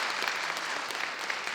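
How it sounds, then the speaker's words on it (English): Steady applause from an audience at a senior project announcement ceremony, a faint, even patter of many hands clapping throughout. "About another round of applause for Mark Frankel"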